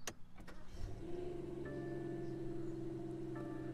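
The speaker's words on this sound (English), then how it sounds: "Let's fire up the car here." A BMW M760i with a V12 engine starts up: an electric whir and brief cranking, then a smooth, low, steady idle hum with a faint high whine, heard from inside the cabin.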